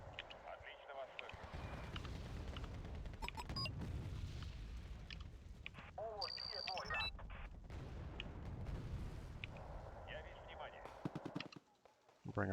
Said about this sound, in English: the mortars are doing great